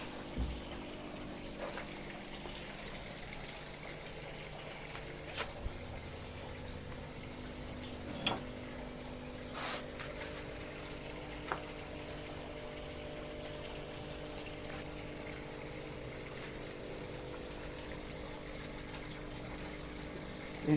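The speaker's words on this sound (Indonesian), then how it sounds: "kita nyalakan aeratornya" An aerator runs in a tank of JLF (Jadam Liquid Fertilizer), a steady low pump hum with constant bubbling water that stays even and moderately quiet, broken by a few faint clicks and splashes.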